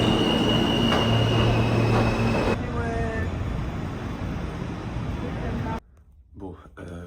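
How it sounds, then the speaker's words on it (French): Subway train riding through a New York metro tunnel, a steady loud rumble of wheels and carriage with faint squeals, dropping abruptly near the end to a quieter interior where a voice speaks. "là, je suis enfin dans le métro."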